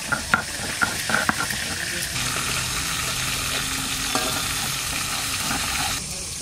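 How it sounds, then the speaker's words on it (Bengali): Ginger frying in oil in a home kitchen pan, a steady low sizzle with a few sharp stirring clinks and scrapes near the start, then an even frying hiss until it drops away at the end. "আদাটা আলাদা ভেজে দেব"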